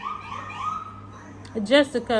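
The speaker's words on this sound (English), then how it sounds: "sorry, the ambulance" An ambulance siren passes outside, its wailing tone rising and falling at moderate distance, then a person starts talking over the end of it.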